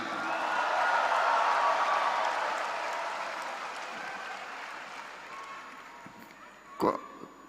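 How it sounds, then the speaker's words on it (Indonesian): Applause for Cabinet Secretary Teddy Indra Wijaya at a formal government event: a large crowd claps loudly, swelling in the first seconds and then gradually fading, with a few scattered whoops and a brief thump near the end. "Kok tepuk tangan lebih gemuruh kalau Teddy ini"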